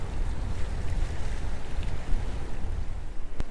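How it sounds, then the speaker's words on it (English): Strong wind buffets the microphone on a coastal fishing pier at night near Galveston, a steady loud rumbling roar with faint surf beneath and no voices. "I don't know how well I can be heard with the wind"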